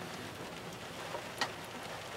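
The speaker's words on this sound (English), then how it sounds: "Another rainy day." Faint, steady patter of rain, with a couple of slightly sharper drops standing out briefly, recorded on a rainy day in Passaic, New Jersey.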